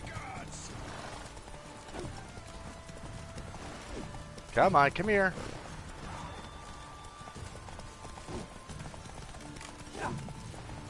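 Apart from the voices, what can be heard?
horses galloping, from the video game The Witcher 3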